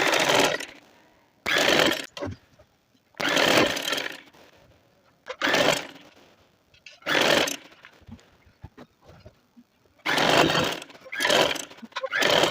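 A sewing machine stitches a trouser seam in loud bursts of a few seconds each, separated by quiet gaps, with the motor whirring up and stopping repeatedly.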